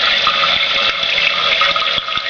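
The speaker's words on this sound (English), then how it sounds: "water will just keep on flowing into the tube, right into the drain" Water runs steadily from a toilet tank into the overflow tube and down the drain, a continuous close hiss and gush of flowing water with no pause, the fill valve failing to shut off.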